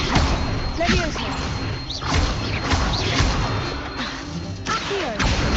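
Spell impacts from wand combat in Hogwarts Legacy, a dense run of smashing, thudding hits and whooshes repeating every second or so, loud and continuous with game voices speaking over the clashes.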